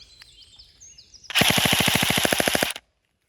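A CM030 airsoft electric gun fires on full auto: one short, tight burst of rapid, evenly spaced mechanical cracks up close, then abrupt silence.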